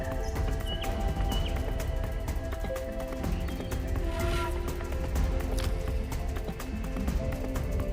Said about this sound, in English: Over 2 million wildebeest, zebras, and gazelles surge across the plains, their pounding hooves kicking up clouds of dust